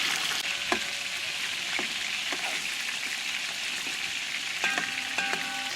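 Chicken pieces frying in a pot for a Réunion chicken carry, a steady close sizzle with occasional crackles and pops, a few sharper spatters and a light clink near the end.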